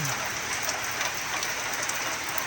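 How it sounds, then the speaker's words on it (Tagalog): Steady rain pattering on a surface, a dense continuous hiss with no voices, falling during hot weather. "Pero umuulan siya."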